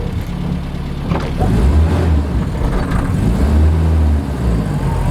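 A car engine hums close by as the vehicle reverses towards the listener on a road near Harlech Castle in Wales, a steady mid-pitched drone that swells slightly and then eases, no talking.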